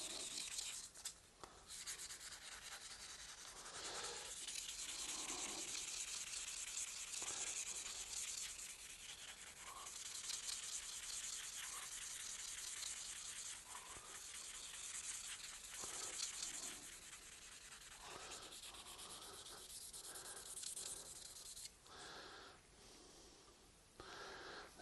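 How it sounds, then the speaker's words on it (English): Someone hand-sands surface rust off a steel cabinet scraper with oiled 600-grit wet-and-dry paper. The soft, close, rhythmic rubbing strokes run continuously and faintly, with light breathing and no speech. "Bit of oil. And 600 grit wet and dry sandpaper."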